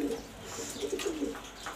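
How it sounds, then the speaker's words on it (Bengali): Mili pigeons in a loft coo softly, a few low throaty calls close by over faint background noise. "অনেক সুন্দর সুন্দর মিলি কবুতর আছে"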